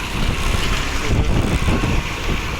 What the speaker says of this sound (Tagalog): lakas ng hangin mga kalapatids